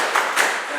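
Two sharp, evenly spaced hand claps from a group doing 'tepuk salut' rhythmic clapping at an Indonesian teacher training session, close and loud.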